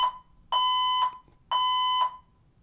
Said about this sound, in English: there's a fire alarm going on right now